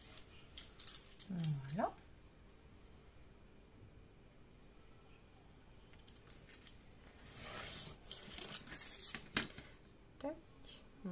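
A utility knife cutter scrapes and slices through material in short rasping strokes, close and fairly quiet, separated by pauses, with a person speaking briefly between the cuts.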